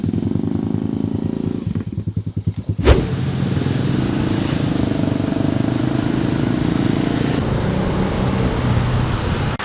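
A car with a loud modified exhaust drives close by, its engine droning steadily after a brief rumbling pulse and a sharp thump near the start.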